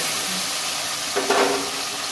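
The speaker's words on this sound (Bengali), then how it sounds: "এবার আমি কচুটা জল দিয়ে সেদ্ধ" Water splashes briefly into a pan of taro pieces and green chillies for boiling, a short pour near the middle of an otherwise quiet kitchen.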